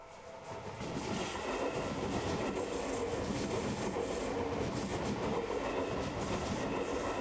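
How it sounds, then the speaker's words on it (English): In a video game, a train rolls into a platform with a rising rumble and clatter of wheels, then its brakes grate and squeal in a harsh, distorted way, loud and close, with no voices. "The train slides into the platform on the opposite side as my ears pick up the distorted grating sound of its brakes."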